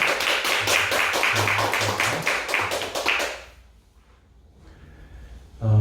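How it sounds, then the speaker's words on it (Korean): A church congregation claps at an online Korean worship service to celebrate a birthday, about three seconds of close, slightly ragged claps before a near-silent pause and a brief sound at the end. "우리 박수로 좀 축하드리겠습니다"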